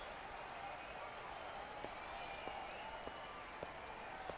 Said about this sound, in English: this crowd's gonna make me go deaf